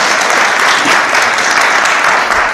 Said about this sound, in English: I think that's a mode for a round of applause